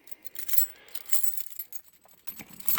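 Keys jangle in a few short metallic bursts, close and fairly quiet, with small clinks scattered between them.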